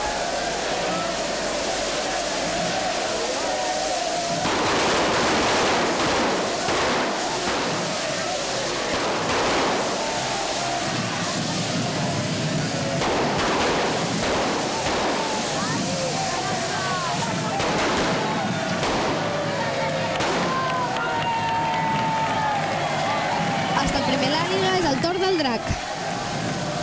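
Firecrackers burst from the Drac fire-beast at the Festa Major de Sitges 2011, rapid crackling volleys that come in repeated bursts over a roaring crowd, with an announcer's voice over the din.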